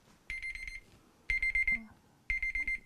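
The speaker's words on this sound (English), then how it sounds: "my timer went off twice." A kitchen-style timer alarm beeps in three bursts of rapid, high-pitched pulses separated by short pauses, fairly close, with faint room noise between.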